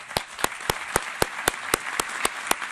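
Applause in a United Nations meeting hall: a crowd clapping under a strong, evenly spaced sharp clap that repeats roughly every quarter second.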